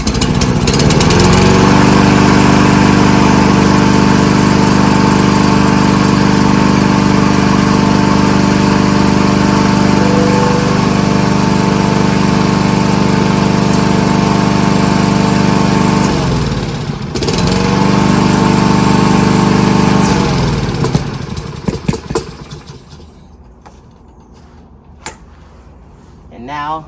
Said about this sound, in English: this is going to be the final start of this lawnmower.